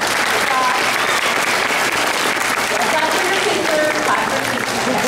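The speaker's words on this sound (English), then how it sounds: "So let's give them a round of applause" Parents and families in a school auditorium give a loud, sustained round of applause after an elementary 5th grade play, dense clapping from many hands with scattered cheers and voices underneath.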